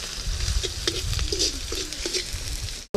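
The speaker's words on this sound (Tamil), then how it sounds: "ஒருத்தர் இஞ்சி பூண்டு வணக்கிட்டு இருக்காங்க" Crushed ginger and garlic sauté in hot oil, giving a dense close sizzle with a few soft stirring scrapes before the sound cuts off.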